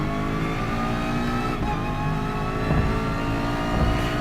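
Race car in Gran Turismo Sport accelerating hard out of a turn: loud, close, continuous engine roar with climbing revs and a layered harmonic whine, alone with no voices.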